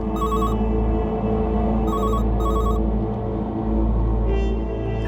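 A landline telephone rings with an electronic trilling tone in short repeated bursts, heard over a steady loud background hum with dramatic underscore.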